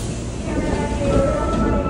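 A rumbling interior of a moving train on a university trip toward Nara, a steady low drone of wheels and motors with a faint rising whine, close and continuous, with no clear talking.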